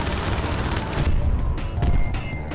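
Rapid gunfire in Half-Life 2 MMod, a fast, loud burst of repeated shots filling the first second, followed by scattered heavier booms and impacts with brief electronic tones between them.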